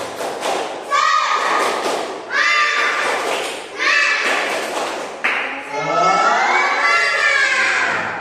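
Children in a primary school class chant loudly in unison in bursts, with rhythmic claps and thumps marking each shouted phrase.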